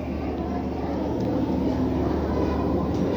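A KRL electric commuter train rumbles steadily at a Jakarta Kota station platform, a continuous low mechanical drone heard up close with no clear speech over it.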